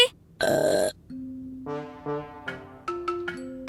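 A cartoon character lets out a loud, buzzy burp, followed by a run of shorter comic tonal grunts and bouncy cartoon sound effects, each cut off cleanly against silence.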